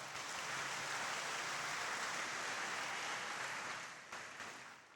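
A church congregation claps together during a Fourth Sunday of Advent service, producing a loud, steady wash of applause that runs unbroken for several seconds before tapering off slightly near the end.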